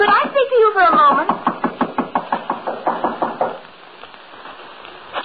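Steady knocking on a wooden door as a 1940s radio drama sound effect, about a dozen evenly spaced raps following a brief voice at the start, then fading to quiet room tone.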